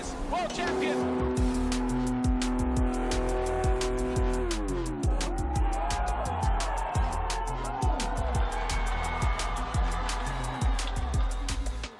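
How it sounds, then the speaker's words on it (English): Motocross bike at an MXGP race in Trentino revving hard past pit lane: a loud, buzzy engine note that climbs and holds steady, with rapid ticking pulses throughout and a commentator talking over it. "Big panic rev as he goes past pit lane."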